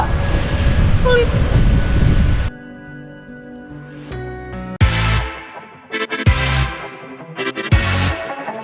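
Steady rushing wind and surf roar at the seaside cliffs of Karangtepas beach for a couple of seconds, then cut off abruptly as music with sharp bursts takes over.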